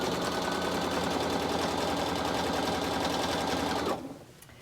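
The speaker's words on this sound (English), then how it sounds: "the raw edges of my quilt and sewing that on with the number 23 foot" A sewing machine with a number 23 foot runs steadily and loudly, sewing piping onto the raw edges of a quilt, its even mechanical whir holding for about four seconds before stopping abruptly.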